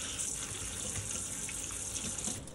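Tap water runs in a steady, fairly soft stream as vegetables are rinsed in a kitchen sink, with no voices.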